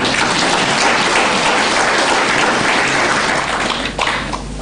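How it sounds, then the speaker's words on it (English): A large congress audience applauds the lunch sponsor TEL1 at the CZI Congress 2017: dense, steady clapping that fills the room for several seconds and thins slightly near the end. "May we give a round of applause to TEL1"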